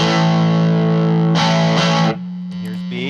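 Electric guitar played through a budget overdrive pedal, either the Donner Blues Drive or the Joyo Vintage Overdrive, sustaining a loud, gritty distorted chord, then a couple of strummed hits and ringing notes, alone with no talk.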